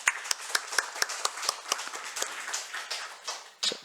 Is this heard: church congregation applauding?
yes